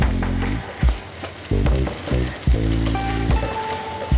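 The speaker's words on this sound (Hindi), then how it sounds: "बस 2 मिनट हम इसे मिक्स करते हुए और भून लेंगे।" Boiled eggs frying in masala, sizzling in short bursts as the mixture is stirred and scraped in the pan, close and clear with no talk.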